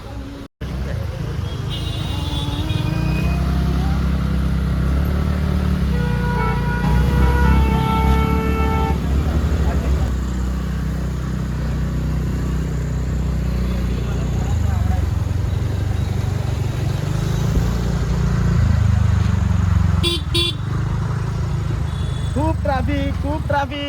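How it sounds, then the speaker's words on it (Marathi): Heavy road traffic rumbles loudly and continuously nearby, with engines droning, several car horns honking in short bursts, and people talking over the din. "खूप ट्रॅफिक, मरणाची ट्रॅफिक"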